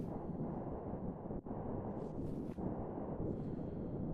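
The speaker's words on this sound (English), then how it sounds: "Well, here's an explosion." A deep, rumbling explosion in the space survival game Stationeers, caused by overpressure in a pipe network, booms broadly and rolls on for several seconds as a heavy, low roar.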